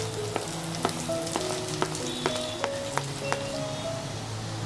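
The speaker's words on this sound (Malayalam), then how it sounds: "ഇനി നമുക്കിതിലേക്ക് വെളുത്തുള്ളി ചെറുതായിട്ട് അരിഞ്ഞത് ആഡ് ചെയ്ത് കൊടുക്കാം." Chopped garlic frying in hot oil in a pan for an Indo-Chinese baby corn and paneer chilli dish, giving a steady close sizzle with scattered sharp pops and crackles, and no talking.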